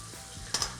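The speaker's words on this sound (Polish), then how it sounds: "Kurczaki będę obsmażał na dwa razy" A quiet, steady sizzle of chicken pieces frying in a pan, with a couple of brief louder crackles near the end.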